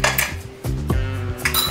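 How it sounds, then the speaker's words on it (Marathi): A metal pressure cooker lid is handled and opened after cooking tomatoes, giving a few close clanks and metallic rattles with short scraping between them. "आता आपण झाकण खोलून पाहूया।"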